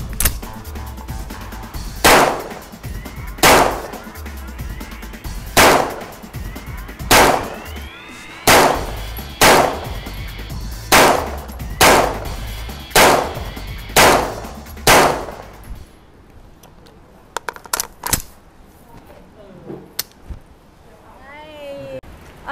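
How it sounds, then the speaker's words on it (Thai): About a dozen loud, sharp gunshots at a shooting range, fired one after another at an even pace during a shooting contest, followed by quieter handling clatter and faint voices. "เมื่อกี้พี่เบย์เขายิงไปแล้วนะคะ"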